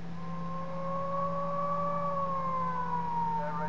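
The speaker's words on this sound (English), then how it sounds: "Air raid sirens sounded across the Croatian capital Zagreb this evening." Air raid sirens wail across the Croatian capital Zagreb, a sustained rising-and-falling tone that drifts slowly in pitch over a low steady hum, loud and unbroken with no voices.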